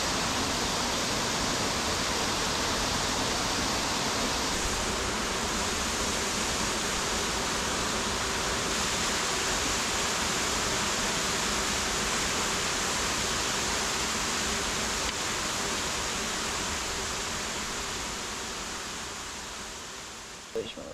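A waterfall on the Appalachian Trail roars as steady, broadband rushing water, loud and constant for the whole stretch before easing slightly at the end.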